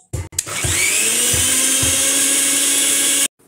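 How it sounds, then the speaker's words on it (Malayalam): A blender whirs loudly, mixing homemade mayonnaise with sunflower oil: a few short starts, then a sustained, even motor whine that cuts off abruptly. "വീണ്ടും ഒന്ന് അടിച്ചെടുക്കുക"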